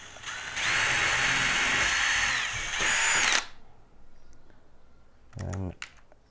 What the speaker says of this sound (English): drill onto this edge here